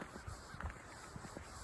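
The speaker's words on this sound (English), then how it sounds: "More crows than normal." Crows caw faintly in the distance outdoors on a gray day of freezing rain, giving a few scattered calls over a low, steady background hiss.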